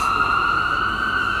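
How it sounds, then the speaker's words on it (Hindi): A continuous ambulance siren on a city street wails steadily and loudly with a sustained two-tone pitch, close by, with no gaps and no voices over it. "ये एम्बुलेंस की आवाज है।"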